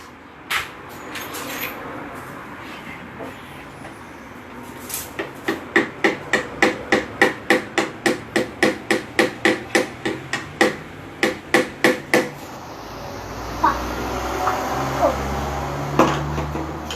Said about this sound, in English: थोड़ा सा हैमर कर देना